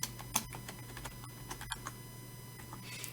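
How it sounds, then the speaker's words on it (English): Password being typed on a computer keyboard during a vCenter setup, a quick run of light, scattered key clicks over a steady low electrical hum. "We'll enter an SSO password."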